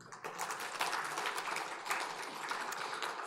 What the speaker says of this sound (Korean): 우리 주님을 찬양하는 박수 한번 하실까요?